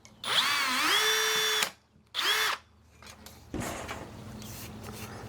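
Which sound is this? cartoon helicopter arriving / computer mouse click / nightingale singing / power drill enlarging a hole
power drill enlarging a hole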